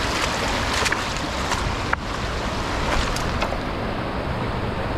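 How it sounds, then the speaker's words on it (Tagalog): A strong river current rushes in a dense, steady roar, loud and close, with a brief faint clink partway through and no voices. "Medyo malakas yung agos din ah."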